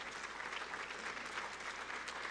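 An audience claps for a student music group in a continuous, even round of applause, moderately distant and fairly soft, with no voices standing out.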